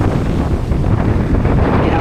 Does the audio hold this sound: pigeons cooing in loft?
no